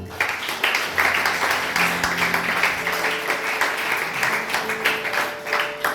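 A church congregation applauding together, a dense steady wash of clapping that fills the room for several seconds, loud and close with a faint tonal hum underneath.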